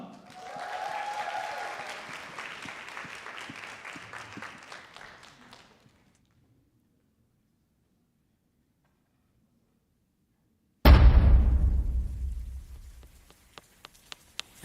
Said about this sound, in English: Please give a thunderous round of applause for our next performer, Hameen Fournier Hassan.